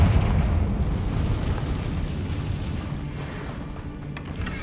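In the Hogwarts Legacy video game, the Confringo fire spell bursts in a deep rumbling explosion that fades into a lingering roar, with a faint clatter near the end.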